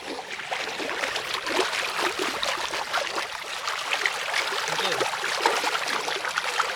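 Water runs through a small village stream among flooded fields, a continuous close bubbling and trickling wash with small splashy flickers throughout.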